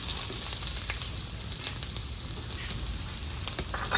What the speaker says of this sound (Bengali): তো বন্ধুরা এবারে এই তেলে দিয়ে দেবো আমি আদা কুচি